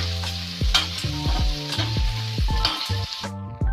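Instant noodle mixture with fresh coriander stirred in a hot pan: a spoon scrapes and clatters against the metal in quick repeated strokes over a continuous sizzle, close and loud.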